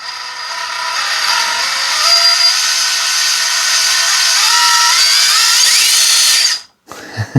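Loud, steady high-pitched whine of a cheap $60 RC car's motor and gearbox bench-tested, running continuously for several seconds with slight pitch shifts, then cutting off abruptly, followed by a few small clunks.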